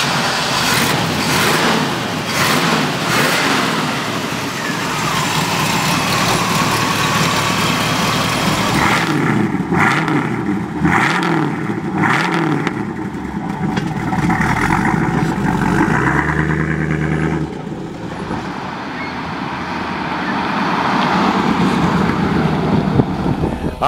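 A 1968 Pontiac Firebird convertible engine runs steadily with a deep exhaust rumble, loud and close, with revving swells partway through and faint background sound.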